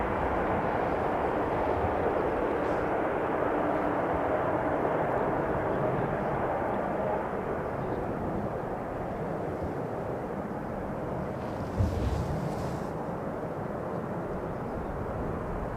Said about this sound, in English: So there's an Embraer coming in from Dublin